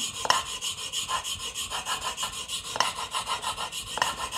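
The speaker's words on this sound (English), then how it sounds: "we just wanna sharpen this until we get a burr on the backside" A chisel being sharpened on abrasive paper in a scary sharp setup gives a steady, loud rhythmic rasp of repeated back-and-forth strokes, close and alone.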